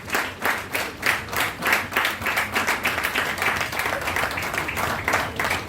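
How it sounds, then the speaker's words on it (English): Audience applause at a book launch in Lagos, steady rhythmic clapping from a crowd filling the room, fairly close and loud with little talk. "Please, another resounding round of applause for her."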